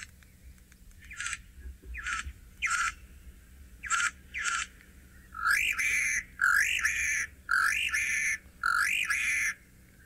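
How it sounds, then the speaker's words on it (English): A bird calls repeatedly in the wild, first several short separate notes, then a series of louder, warbling two-part phrases in a steady rhythm, fairly close over faint background hiss with no talking. "Sounds like they're going Ariba, Ariba. They're calling back, Marcel."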